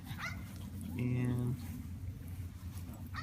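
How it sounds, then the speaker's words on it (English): A dog whimpers and yips at an outdoor dog park, a short high whine in the middle of steady wind and ambient noise, with a person speaking briefly. "Just wanted to show you this dog park."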